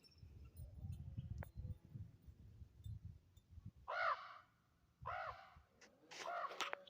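A large raven caws outdoors in front of a mountain cabin, three loud harsh calls in a row after a quieter stretch of rumbling background.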